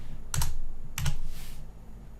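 Two short bursts of keyboard typing, each a quick cluster of clicks, with a pause between them; close and fairly quiet, with no talking.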